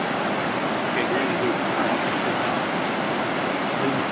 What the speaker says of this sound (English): I'm going to go back and forth into the water